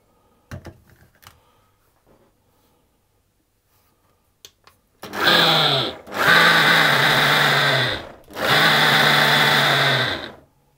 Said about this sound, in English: I'm just going to give those a quick pulse to get those mixed together